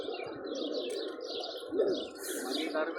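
Pigeons including a black badge tippler coo softly amid a bed of chirping birds, a steady low murmur of calls outdoors with no talking.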